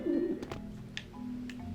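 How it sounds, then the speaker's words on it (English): Pigeons coo in the Grim Fandango video game, a soft low warbling call followed by a few faint clicks and tones against steady game background sound. "Scare these birds away"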